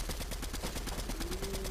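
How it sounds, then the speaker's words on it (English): Rapid automatic gunfire from a Fortnite match rattles in a steady, dense burst, loud and continuous with a faint tonal whine rising underneath. "Oh, we're getting shot."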